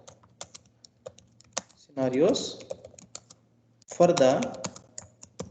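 Typing on a computer keyboard during a software testing session, scattered clicky keystrokes in quiet bursts, with a person speaking briefly between them.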